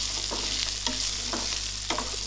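Small shallots and pepper sauté in a pan for a chickpea kuzhambu. A steady hissing sizzle runs under a low hum, with spatula scrapes roughly every half second, close and with no voices.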